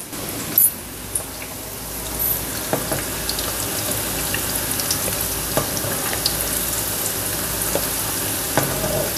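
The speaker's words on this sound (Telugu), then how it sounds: "కొంచెం బాగా వేగే వరకు వేపుకోవాలి, ఎందుకంటే మనకి ఇక్కడ క్యాలీఫ్లవర్ కూడా ఉడకాలి కదా" Cauliflower fries in a pan with a constant close sizzle and crackle, broken by occasional scrapes and taps of a spoon stirring, with no voices heard.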